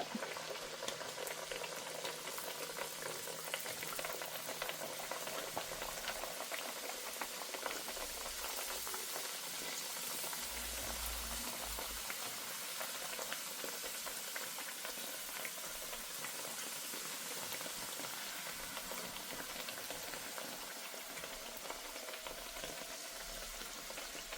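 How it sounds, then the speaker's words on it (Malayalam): Bread bhatura frying in hot oil makes a steady, dense bubbling sizzle that holds at an even level throughout, with no voices. "ഇനി ബാക്കിയുള്ളത് ഞാൻ ഇതുപോലെ ഉരുട്ടിയിട്ട് ഇനി ഇതുപോലെ തന്നെ ഫ്രൈ ചെയ്തെടുക്കട്ടെ"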